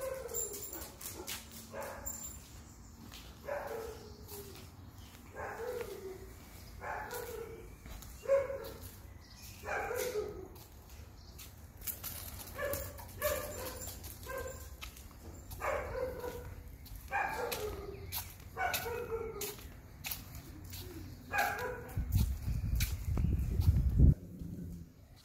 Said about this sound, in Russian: Кто там? Кто тут смеет гавкать?